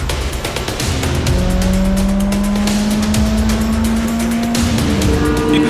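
Race cars compete and pass each other at close range. Loud, overlapping engine notes rise and fall with a faint tire squeal, continuous and with no talking.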